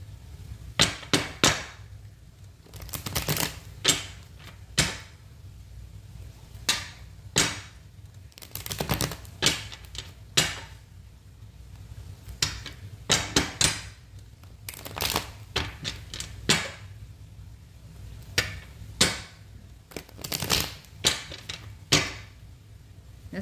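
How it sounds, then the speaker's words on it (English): Tarot cards being shuffled by hand, repeated sharp papery riffles and slaps in irregular bursts, close and fairly loud over a quiet background. "We're going to shuffle the cards 5 times."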